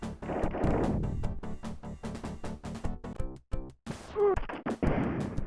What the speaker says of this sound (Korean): 총알 버튼을 한 번만 눌러도 3발이 자동으로 발사가 되니까